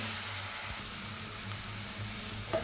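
Spices, salt and ingredients for tilapia curry frying in oil: a steady, close hiss of sizzling throughout, with a faint stir or tap near the end.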